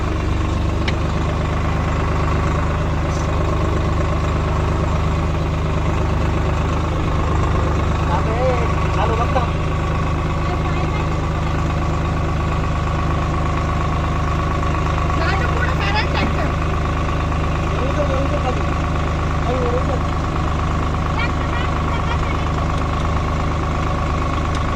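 A tractor engine idles steadily through the whole stretch, low and continuous, while the machine sits stuck in deep mud at a dam site; voices talk intermittently over it.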